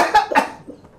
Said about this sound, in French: Tu as toussé.